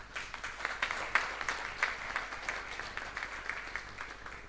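A conference audience in Mbarara, Uganda applauds the community's mayor, a steady wash of many hands clapping at moderate level, with sharper individual claps popping out of the crowd sound.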